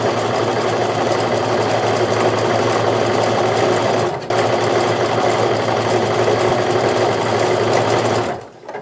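A sewing machine stitches the seams of a sweater pillow cover, running loud and close in a steady continuous whir with one brief pause before stopping, no talking.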